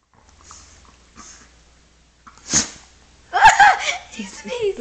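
A dog named Lola gives a short, sharp sneeze amid snuffling sniffs, followed by a burst of human laughter and voices close by.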